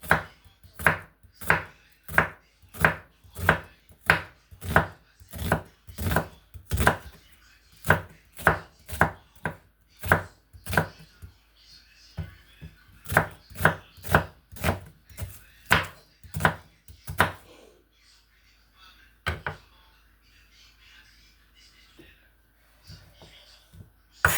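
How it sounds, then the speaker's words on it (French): An onion is cut into strips with a knife on a board, a long run of sharp, regular chops in quick rhythm, close and distinct, pausing briefly midway and fading to a few scattered cuts at the end. "Ensuite, je vais découper un autre oignon, mais celui-là, je vais l'utiliser un peu plus tard. Lui, je vais le découper en lamelles."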